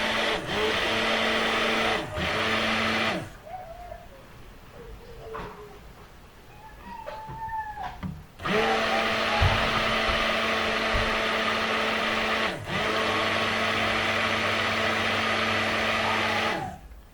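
A stick blender whirs steadily in loud bursts through cold process turmeric and carrot soap, cutting out briefly a few times, with a quieter pause in the middle where faint clinks and a soft voice are heard.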